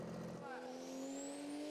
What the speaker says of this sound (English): Bringing RPM up.